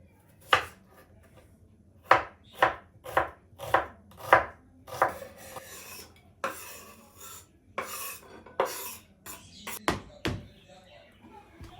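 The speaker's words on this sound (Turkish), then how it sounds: "Soğanımı da doğruyorum." A knife chops through onion on a board, starting with a steady run of crisp, evenly spaced cuts and then turning into looser, irregular chops and taps; close and fairly loud, with a few soft kitchen clatters near the end.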